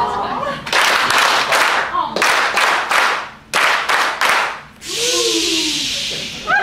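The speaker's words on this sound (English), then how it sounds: "when I start clapping, we'll give our cheer for Jono and Tina" A small group claps and cheers for Jono and Tina in loud bursts, with short pauses between rounds and a final sustained hissy cheer; voices mix into the noise.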